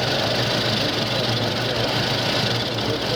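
A GM engine with variable valve timing idles while misfiring on all cylinders, giving a loud, continuous rough rumble with a steady knocking pulse throughout.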